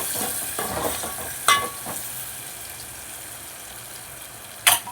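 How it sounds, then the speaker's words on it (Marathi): Garlic crackles in hot oil for a dal tempering, a quiet steady sizzle broken by two sharp metallic clinks of a spoon against the pan, with no speech. "कुरकुरीत लसूण होऊ द्या"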